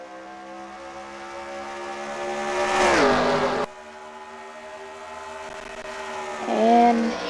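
Race cars in the NASCAR Racing 2003 video game scream down the back straightaway, engine whines rising in pitch and swelling as cars pass, an abrupt cut, then another car's tone climbing and growing loud near the end, with no talking.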